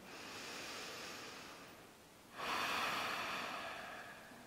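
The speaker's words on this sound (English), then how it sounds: "Inhale deeply into your belly. A long exhale out." Deep yoga breath during a beginner-to-advanced session: a steady, airy inhale gives way to a louder, fuller breath rising in the second half, close and unhurried, with no talking.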